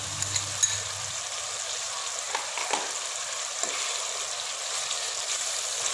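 Ginger garlic paste fries in a pan, giving a steady close sizzle with faint scraping stirs and a few light clicks, and no voices.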